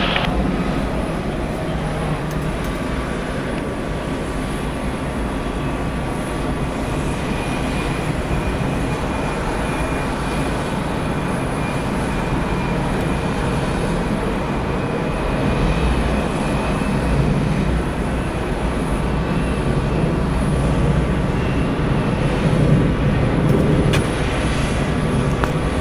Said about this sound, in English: Departing is Delta Airlines flight 1281 going to Milwaukee. It's an Airbus A321, 4 years old.